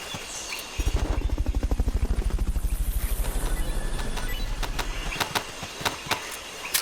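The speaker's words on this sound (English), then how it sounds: "confirmed onboard helicopter" A helicopter in the video game Metal Gear Solid: Peace Walker, its rotor thumping in a loud, steady rhythm for several seconds before easing off, followed by a few sharp clicks.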